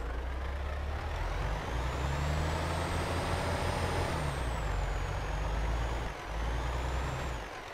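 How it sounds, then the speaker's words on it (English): A heavy truck in Euro Truck Simulator 2 under emergency braking, with a steady loud hiss of air brakes over a deep engine rumble and a high whine that rises and falls, continuous for several seconds with a brief dip near the end. "I'm gonna have to emergency brake this."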